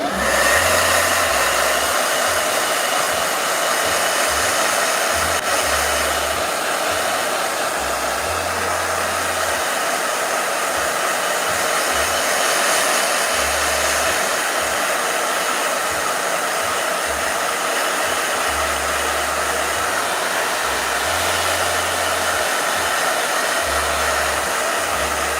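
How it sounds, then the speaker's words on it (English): A blow dryer runs continuously at a steady, loud whir for the whole stretch, with a faint fluctuating low hum beneath and no speech. "Blow dryer."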